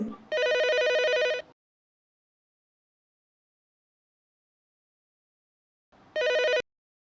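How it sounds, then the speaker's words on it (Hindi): A telephone rings in two bursts, a long ring and then, after several seconds of silence, a shorter second ring, clear and close. "रुको रुको, सीमा सीमा जरा फोन देखना।"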